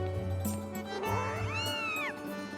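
A cat-like creature in Zelda Skyward Sword HD gives a single drawn-out meow that rises and falls, clear and close over quiet game background tones.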